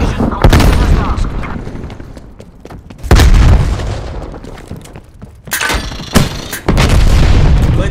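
Napalm strike in Call of Duty: Black Ops Cold War, a series of loud close explosions, four or five heavy booms each followed by a roaring, crackling decay, separated by brief lulls.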